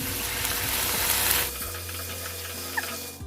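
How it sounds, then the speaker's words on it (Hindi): Water splashes into a hot pan of mutton aloo gosht cooking in ghee, setting off a loud hiss that then settles into a steady, quieter sizzle close by. "अब यहाँ पे हम लोग एक घूंट सा पानी डालेंगे"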